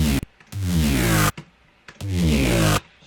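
Electronic bass played without its vowel-sweeping filter or vinyl distortion, two sustained harmonic-rich notes with a short blip between, loud and dry with no talking.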